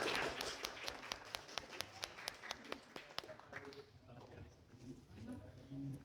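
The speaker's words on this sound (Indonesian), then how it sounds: "Beri tepuk tangan untuk kelompok 4" A small group in a classroom claps for a presenting student group, a short run of distinct, fairly quiet claps that thins out and gives way to talking.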